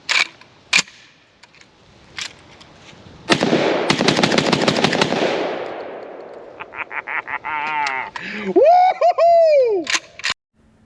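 A Vepr 12 shotgun fires loud, close blasts, one early, then a rapid string of shots that ring off, followed by more quick reports; a voice and whoops come near the end.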